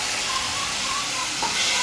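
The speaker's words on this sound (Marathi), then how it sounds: "तेही आपण ह्याच्यामध्ये छान असे परतून घेऊया" Finely chopped tomatoes sautéing in a pan with onions, a soft continuous sizzle and hiss that holds steady and fairly faint, with a brief brighter scrape near the end and a voice faintly present.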